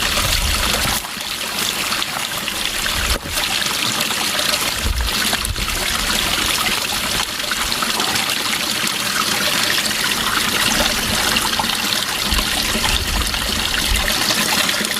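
Water trickles and splashes steadily from a small stream in the Kilpatrick Hills, Scotland, being collected while wild camping, a close, continuous babbling with occasional louder splashes.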